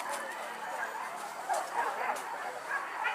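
Hunting dogs bark and yelp during a wild boar hunt on a forested hillside, sounding distant and faint amid broadband outdoor noise, with several scattered yips across the stretch.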